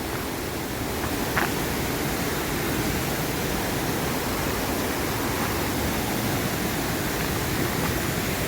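Thommankuthu waterfall in Idukki pours with a steady, unbroken roar of rushing water that stays even throughout.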